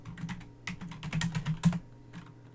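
Commands typed on a computer keyboard while configuring network routers, a close, quick run of key clicks in bursts with brief pauses, no talking.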